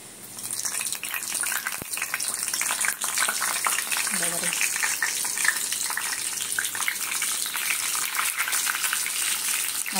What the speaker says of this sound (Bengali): পাঁপড় ভাজা আর বেগুন ভাজা হয়ে গেছে